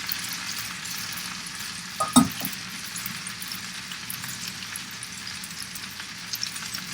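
Pistachio-crusted chicken pieces frying in a pan as they are turned, a steady soft sizzle with a brief clink and scrape of the utensil partway through, no speech.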